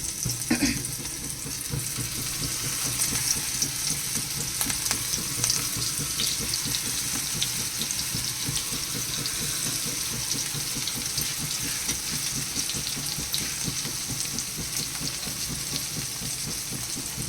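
Surmai kingfish fries in a hot pan over lowered flame, giving a steady, close sizzle that hisses continuously from start to finish with no talk over it.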